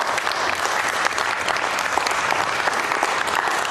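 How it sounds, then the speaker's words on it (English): A hall audience gives a round of applause during a talk, dense sustained clapping filling the whole stretch at even, fairly loud level without speech over it. "Please give her a round of applause."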